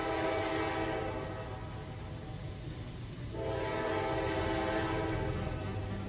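A passing train sounds its horn in a long, sustained multi-tone blast that dips briefly and then swells again, fairly distant, over a continuous rumble of rolling cars, with no talk.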